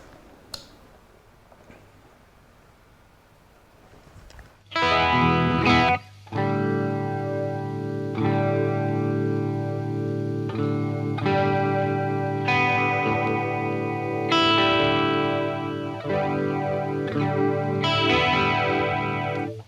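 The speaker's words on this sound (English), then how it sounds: "we're using the flanger almost like a chorus" A flanger set up almost like a chorus sweeps through a sustained, distorted-sounding chord part, with soft ticks before a loud entry near five seconds that then rings on with shimmering, wavering modulation.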